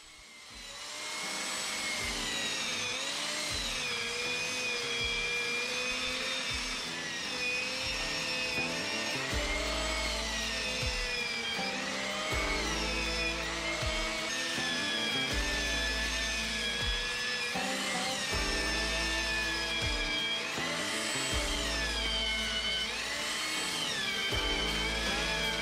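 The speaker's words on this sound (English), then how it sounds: "Finally, I finished cleaning up the stem with the large belt sander." A large belt sander shapes a wooden stem with a continuous high mechanical whine, broken by repeated deeper grinding surges as the wood is pressed to the belt, loud and close throughout.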